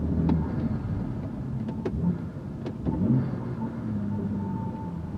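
A BMW M2 fitted with a loud aftermarket intake downshifts, its engine a low, fairly quiet rumble punctuated by several brief sharp blips and clicks, with no talk.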